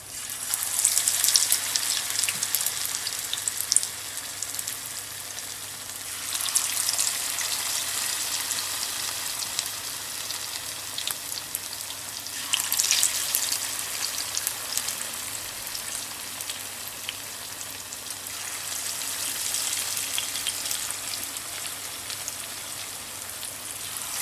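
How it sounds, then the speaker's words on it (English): Sabudana vadas fry in oil in a pan over a low flame, giving a steady rain-like crackling sizzle that swells and fades in slow waves with no talking. "now you're going to place them onto the pan and let them fry"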